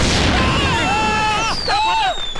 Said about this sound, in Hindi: बाहर बाराती पटाखे फोड़ रहे हैं